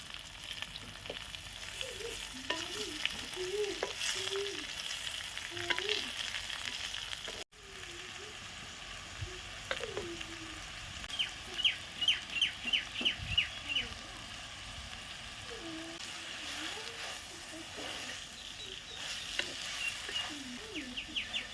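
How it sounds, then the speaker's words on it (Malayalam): Sliced onions and ginger sizzle steadily in a pan on a wood-fired stove for Kerala beef pepper fry, with birds chirping nearby and intermittent voices. "മൂന്ന് വലിയ സവാള നീളത്തിൽ അരിഞ്ഞത് ഇതിലേക്ക് ഇട്ട് കൊടുക്കുക."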